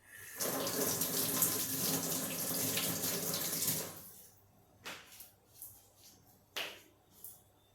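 Tap water runs steadily for about four seconds, splashing over hands in a kitchen before kneading dough, then stops, followed by a few soft drips and light clicks.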